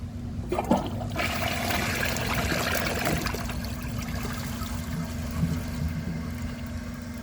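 A 2001 Vortens Vienna toilet flushing, a steady loud rush of water with a constant hum underneath, starting sharply and running continuously to the end, no voices.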